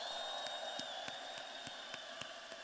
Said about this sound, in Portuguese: a salva de palmas para todo esse movimento